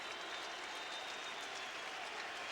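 A ballpark crowd at a Braves–Mets baseball game makes a steady, distant roar of cheering, faint and even throughout with no voices standing out.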